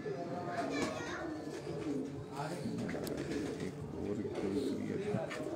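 Teddy pigeons cooing on a rooftop in Lahore's Dharampura area, soft low coos repeating under steady outdoor background noise, with children's voices faint in the distance.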